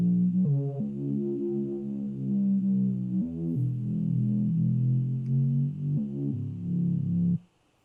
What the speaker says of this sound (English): in the final bass line itself, it should sound like this